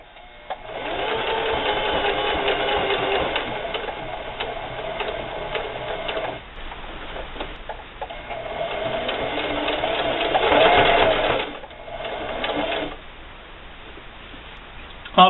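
A sewing machine stitches denim for a wallet, running in steady bursts with a pause and a turn at a corner, then continuing at a fairly loud, even buzz.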